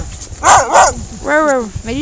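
Two loud, close barks from a small dog, followed by a drawn-out whiny yelp, at an outdoor mountain resort with background noise.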